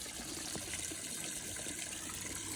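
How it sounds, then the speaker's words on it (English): Water flows steadily into a garden pond fitted with a floating de-icer in winter, a faint continuous gushing and splashing that holds even throughout. "So I do have a good amount of water flow shooting into the pond."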